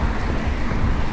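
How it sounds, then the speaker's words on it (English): Heavy rain pours in a dense, steady broadband hiss with a low rumble beneath, loud and continuous outdoors without any talking. "Oh, no. It's raining hard."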